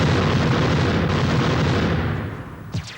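An automatic cannon firing ammunition at a test range, a heavy continuous roaring boom that fades away toward the end, followed by a brief faint knock.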